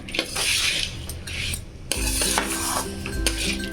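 Amla being stirred with jaggery in a pan over a low gas flame, a spoon scraping and rasping against the metal in steady strokes alongside a soft sizzle, with no voices.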